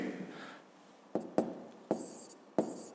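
A pen scratches across paper while figures are written down, several short distinct strokes and taps close by in a quiet room, without any voice.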